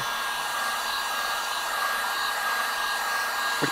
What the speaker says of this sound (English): we're going to heat evenly around the frame